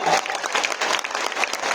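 A standing audience in Patna gives loud, dense, continuous applause at a Modicare event, many hands clapping together close and full for the whole short stretch.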